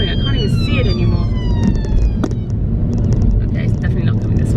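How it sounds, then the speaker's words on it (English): An ambulance siren passes outdoors with rising and falling wails, some distance away beneath steady broadband street and traffic noise. "Where is that ambulance going?"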